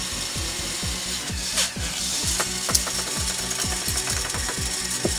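A modified LEGO L-Motor spins fast, giving off a quick, steady train of sharp plastic clicks and ratcheting taps over a constant whirring hum, close by and fairly loud.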